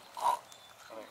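An alligator gives a short grunting snort, a brief pig-like burst near the start and another at the end, faint and outdoors with little else around it.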